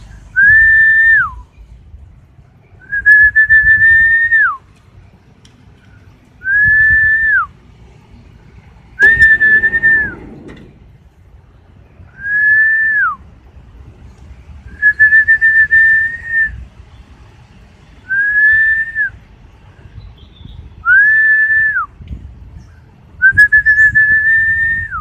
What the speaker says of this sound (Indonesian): Kekuatan bersiul untuk mendatangkan angin.